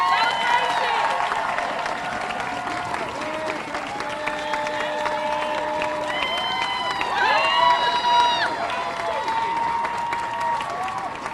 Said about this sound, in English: Clap it up for Gracie.